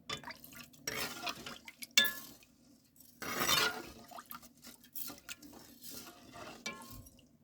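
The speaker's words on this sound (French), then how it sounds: "Nous allons commencer par laver notre riz. Afin d'enlever l'amidon." Rice is washed by hand in water to rinse off starch, giving quiet sloshing, dripping and soft clinks of grains against a bowl in irregular bursts, close and faint.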